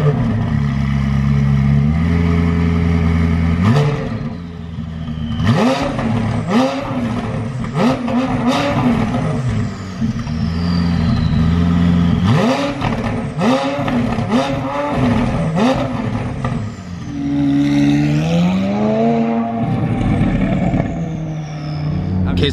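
A straight-piped, tuned 650 hp McLaren 570S revs and accelerates from the cabin, its engine loud and close, climbing through gears with rising pitch and repeated shifts, while people speak over it.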